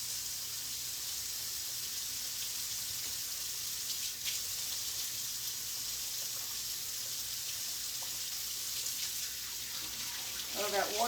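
Warm water runs from a kitchen tap over a person's hands in a steady, faint hissing stream. Small splashes and shifts appear near the end.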